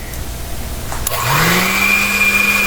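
Electric mixer beating sweet potato bread dough with room-temperature butter: the motor starts partway through and rises into a steady, loud, close whir with a high tonal whine.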